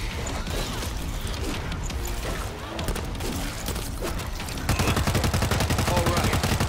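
Gunfire rattles through the zombie shooter game World War Z, with dense chaotic volleys and crashes, then a rapid, steady automatic burst toward the end, loud and continuous.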